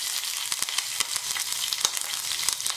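Green chillies are dropped into hot oil in a pan for a coconut tomato curry, with a bright, steady sizzle and crackle broken by small pops and stirring sounds.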